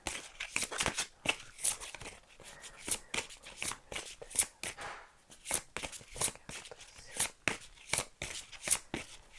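Playing cards shuffled and drawn for a card reading, rapid repeated riffling bursts in an irregular rhythm, close and fairly crisp, with no speech.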